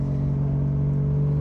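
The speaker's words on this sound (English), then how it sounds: "Driving the JZX90 directly off the Rebel JZ base map, running on a Haltech Nexus S3." A Toyota JZX90 with a JZ engine running a base map on a Haltech Nexus S3 ECU gives off a steady, loud low engine drone from inside the car, holding an even pitch without revving.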